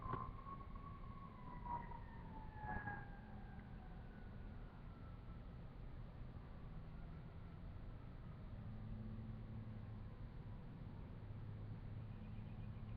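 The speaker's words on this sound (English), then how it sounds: "You hear the sirens?" Faint sirens wail in the distance, their rising and falling tones drifting under a steady background hiss, with no one speaking.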